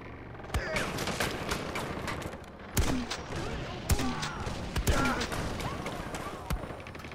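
Gunfire in the open-world shooter Far Cry 4: sharp, loud shots crack out at irregular intervals over a noisy battle background, while a voice is briefly heard.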